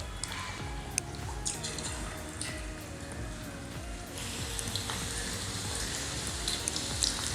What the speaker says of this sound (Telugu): ఇప్పుడు ఈ చికెన్ని మనము డీప్ ఫ్రై చేసుకుందాం